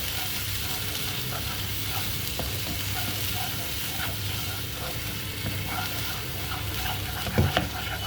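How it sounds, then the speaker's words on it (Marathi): Spices being stir-fried into a ground paste in a pan, for a mushroom and capsicum dish, make a continuous loud sizzle with scraping stirring strokes and a brief clatter near the end. "आपल्याला पुन्हा हे मसाले या पेस्टमध्ये परतून घ्यायचे आहेत एकजीव करायचं आहे आपल्याला"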